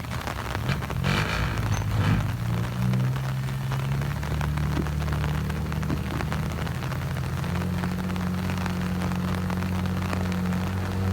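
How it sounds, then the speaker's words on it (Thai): Heavy rain pours steadily in a dense, hissing roar, with a low rumbling hum running underneath throughout. "โอ้ฝนก็ตกหนักนะเนี่ย"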